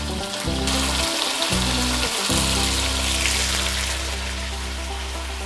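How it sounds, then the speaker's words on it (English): Chicken pieces sizzle loudly in a pot for chicken noodle soup, a dense, steady frying crackle that holds close and constant throughout with no talking. "Now you can see how our chicken is starting to sizzle."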